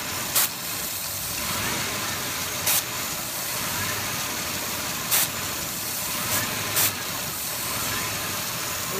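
A car engine idles while spray is directed around a PCV valve vacuum leak, giving a continuous broadband hiss and rumble broken by several brief, sharp bursts of spray.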